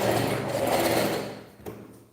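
A sewing machine stitches fabric in a steady, loud, rapid whirring run that slows and stops near the end, followed by a brief clunk.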